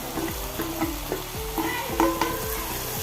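Capsicum, green peas and carrots stir-frying in a pan for vegetable macaroni pasta, a close, continuous sizzle broken by repeated quick scrapes and knocks of a spatula against the pan.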